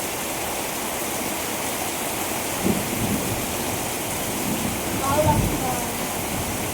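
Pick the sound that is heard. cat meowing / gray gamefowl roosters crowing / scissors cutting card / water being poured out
water being poured out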